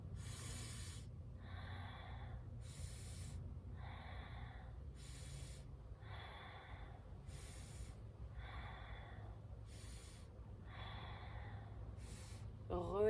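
Slow, deep yoga breaths during a hatha session, about eight long airy inhale-exhale cycles following each other at a steady, unhurried pace over a low background hum, close and moderately loud, with no talking.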